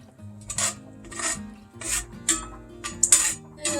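Frozen corn kernels poured and stirred into a pot for a pasta and scallop dish, a series of rattling, scraping bursts of kernels clattering against metal, close and irregular.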